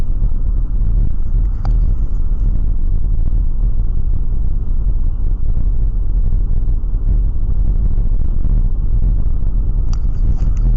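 Cabin noise inside a moving car, recorded on a spy pen camera: a loud, steady, low road rumble and engine drone throughout, with faint brief ticks near the start and end.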